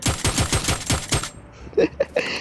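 Rapid automatic gunfire in PUBG Mobile: about eight sharp, evenly spaced shots in a quick burst, then a pause and a few scattered lighter game sounds.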